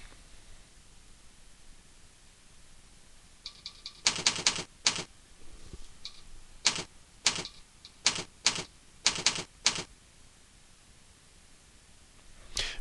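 Keys tapped on a computer keyboard to enter a name, a burst of quick clicks followed by spaced single keystrokes, near and fairly quiet against faint background hiss, with no speech.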